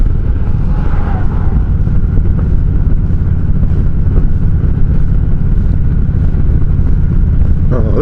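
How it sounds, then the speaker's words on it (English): Motorcycle with handlebar muffs downshifting as it rides into town, a steady loud low engine drone with wind rush throughout, a brief rising whine early on. "downshifting to get into town here"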